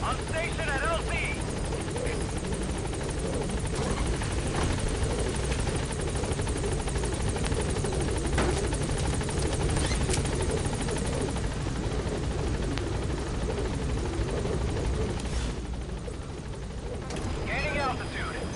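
The Pequod helicopter in Metal Gear Solid V hovers at a landing zone, its rotor roar loud and continuous throughout, with radio voices talking over it.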